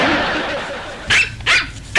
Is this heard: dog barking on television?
yes